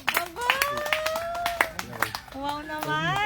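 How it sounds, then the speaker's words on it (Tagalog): A church congregation claps in scattered, uneven bursts while someone talks loudly over it, the hand claps sharp and close between his phrases. "Palakpak naman po tayo dyan."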